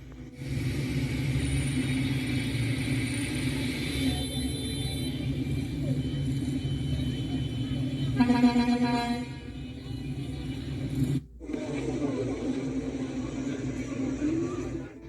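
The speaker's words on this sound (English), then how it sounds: "Flooded roads and traffic congestion are some of the effects of heavy rain that hit Cali." Traffic crawling along flooded roads during heavy rain in Cali, Colombia, with a steady rumble of engines and water wash, a brief horn-like tone midway and an abrupt cut late on.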